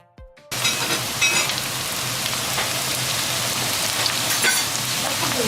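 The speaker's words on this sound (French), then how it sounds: "je vous ai laissé ici le bruit pour bien écouter les frémissements de la pomme de terre qui rissole" Sautéed potatoes sizzle steadily in a hot frying pan, a dense, loud crackle that starts abruptly and continues without a break.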